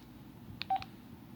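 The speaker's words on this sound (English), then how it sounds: "here's the phone call I'm gonna do" A short run of telephone dialing tones, a few quick beeps of keypad presses placing a call, fairly faint over a low background rumble.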